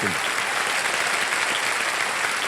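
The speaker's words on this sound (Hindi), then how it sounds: "एक बार जोरदार तालियां बज जाएं" Loud, dense applause from the studio audience of a TV quiz show, continuous and even from start to finish.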